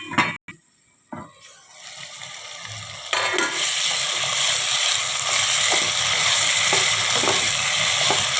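Chicken fry sizzling in a pan: after a few clattering knocks and a short quiet moment, a loud, steady frying hiss rises and holds, with occasional soft scrapes of stirring, close up and without speech.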